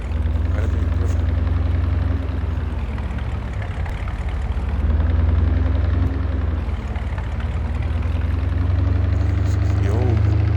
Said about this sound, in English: This is the old gas engine.